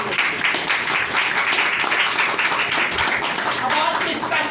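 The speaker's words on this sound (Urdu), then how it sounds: "زوردار تالیاں بجائیے" A church congregation applauds loudly and continuously during an Urdu sermon, a dense, steady wall of clapping that fills the whole stretch.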